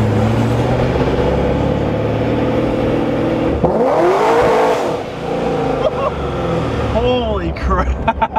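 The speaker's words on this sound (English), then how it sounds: "I was just told this Corvette Z06 makes how much to the wheels? 1136 to the wheels." An 1100hp Corvette Z06 engine roars loudly and rises in pitch through several hard revs and upshifts, with a sweeping pass-like surge midway, while someone talks over it.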